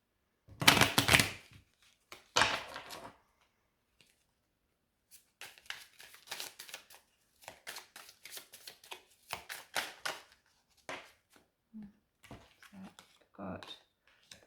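Tarot cards riffle and shuffle in several short, crisp bursts with pauses between them, close and fairly quiet, alongside intermittent soft handling noises.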